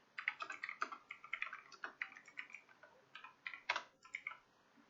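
Rapid, irregular keystrokes on a computer keyboard while C# string code is typed into Visual Studio, close and fairly quiet, with short pauses between bursts and no talking.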